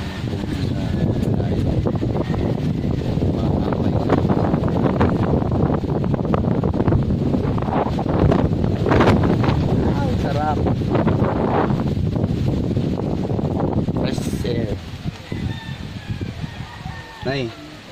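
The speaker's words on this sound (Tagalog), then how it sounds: "Amihan yung hangin na yan?" Strong, steady amihan northeast monsoon wind in Santa Maria, Bulacan roars and buffets the microphone throughout, with chickens clucking and people talking beneath it; the gusts ease near the end.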